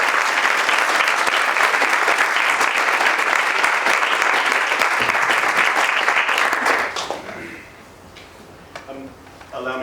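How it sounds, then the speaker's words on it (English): Sustained, dense applause from a lecture audience at a university divinity school opening lecture, loud and steady for several seconds before tapering off. "So I think a round of applause once again for all of them."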